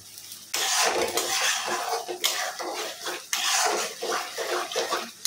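Ground masala being stirred and fried in a pan, with scraping and clattering of a utensil against metal in uneven bursts, sizzling underneath, close and fairly loud.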